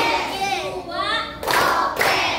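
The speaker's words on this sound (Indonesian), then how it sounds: "Kita tepuk konsentrasi dulu ya. Oke, tepuk konsentrasi." A classroom of children does a rhythmic concentration clap. A voice chants at first, then two sharp, loud bursts of group clapping follow close together.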